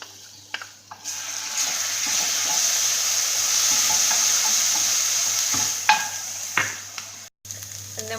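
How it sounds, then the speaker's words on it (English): Garlic cloves frying in olive oil in a pan, a steady close sizzle with faint stirring scrapes and a few brief clicks and knocks near the end. "put in our 1 to 2 cloves of garlic and fry it until it starts to get golden"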